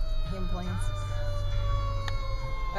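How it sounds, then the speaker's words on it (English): A fire truck siren wails loud and close on a street at Christmastime, its rising and falling tone sweeping over heavy engine rumble. "Fire truck. That was some fire truck."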